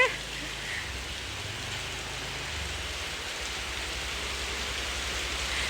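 Steady rain pattering on a surface, a continuous soft hiss with faint low rumbles in the background.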